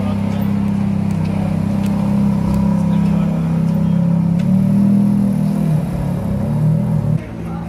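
Sports cars such as McLarens, Aston Martins and Ferraris rumble through a street, a steady low engine drone with mild revving that eases off near the end.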